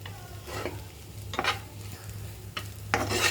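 Amaranth leaves fry in a pan with a soft, steady sizzle, broken by several short scraping stirs of a utensil against the pan, all close and fairly quiet.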